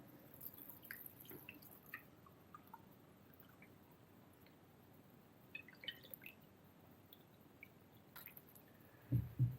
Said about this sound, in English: pour this through a sieve, just a normal sieve.